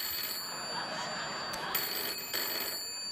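A telephone rings on a late-night talk show set, a steady trilling ring that holds for several seconds at moderate volume over a quiet background.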